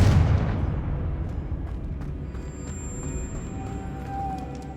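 A Confringo blasting spell detonating in the Hogwarts Legacy video game: a single heavy boom at the start that fades into a low, lingering rumble with faint tonal ringing.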